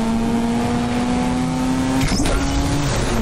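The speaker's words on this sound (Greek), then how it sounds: "Ακούστε το ρότορ," A Mazda RX-8 rotary engine revs in the Need for Speed Unbound racing game, a loud steady buzzing drone held close throughout, with a brief shift in pitch near the two-second mark.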